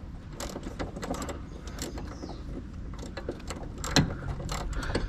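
A 12mm socket ratchet clicks in quick, uneven runs of ticks while tightening a bump stop bolt on a 2010 Kia Sorento, close by over a low background rumble, with no talking.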